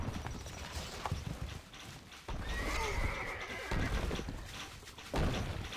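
A horse whinnies in a drawn-out neigh in the video game Stronghold: Crusader, amid clip-clop hooves and mechanical clatter, moderately loud and close.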